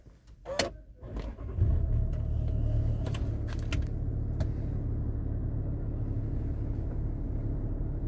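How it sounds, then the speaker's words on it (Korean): A 2014 Land Rover Discovery 4 SE engine cranks and turns over after a few clicks, then settles into a steady, low rumbling idle that continues evenly to the end. "시동을 걸어 볼게요"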